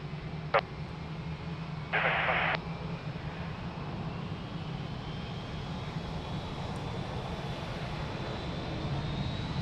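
Airliner engines roar steadily during takeoff at Lisbon Airport, a broad continuous rumble held at an even level throughout, with a brief radio-like burst near the start and no talk.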